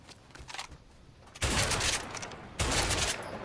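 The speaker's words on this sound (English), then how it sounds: "This is the perfect place for target practice. I think I might take the MP5." An MP5 submachine gun fires at a building construction site in the video game A Way Out, in two loud, sustained rapid bursts following a quieter stretch.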